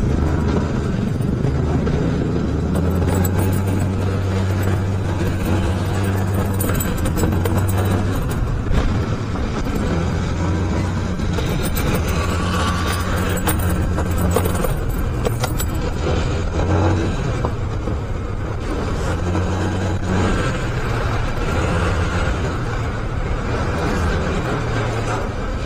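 Motorcycle ridden over a damaged, muddy road after rain, engine droning steadily with shifting pitch and rough rumbling throughout, close and continuous.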